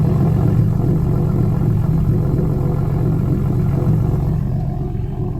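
A repaired Lexus IS 250 engine runs steadily at idle, a loud, continuous low rumble close by with no revving, easing slightly toward the end.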